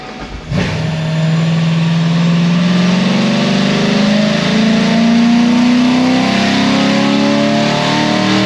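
A car engine fitted with stage 2 headers and a cold air intake revs hard on a chassis dyno. The sound is loud and close, one long pull that climbs steadily in pitch after a sharp start, with no talking.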